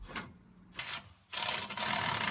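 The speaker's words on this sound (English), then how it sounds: "now it's time to remove the fuel tank bolts" Ratchet wrench working the 18mm fuel tank bolts under a 2024 Jeep Wrangler, heard as short close ratcheting and rasping bursts separated by brief pauses, with no talking.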